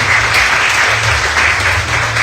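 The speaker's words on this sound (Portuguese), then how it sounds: "Uma salva de palmas para a família Bertalha." Congregation applauding at a Sunday church service, a full, continuous wash of clapping from a large indoor crowd, loud and steady throughout with a low hum beneath.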